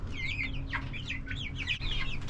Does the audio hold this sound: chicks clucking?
yes